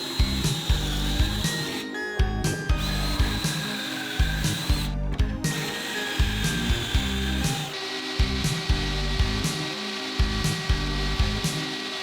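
A drill repeatedly drives 1 1/4 inch coarse-thread pocket-hole screws into plywood for a headboard build. Rhythmic whirring bursts carry ratcheting clicks, with short gaps between screws, close and fairly loud throughout.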